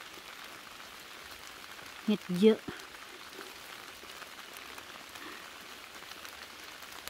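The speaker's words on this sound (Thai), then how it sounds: "เสียงทุกท่านได้ยินนี้คือเสียงฝนตก" Rain falls steadily on a forest during mushroom picking, a soft even hiss throughout, with a brief voice speaking midway.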